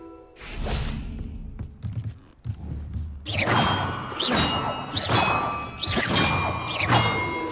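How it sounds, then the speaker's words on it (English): Bells ringing in the Hogwarts Legacy video game, a run of bright metallic clangs and dings struck one after another in a loose rhythm, loud and close, with some mechanical clunks before them. "Perhaps the map contains clues about the order I'm supposed to ring the bells in."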